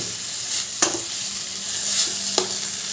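Grated kohlrabi stir-frying with spices in a pan, a steady close sizzle with occasional sharp spatula scrapes and taps against the metal.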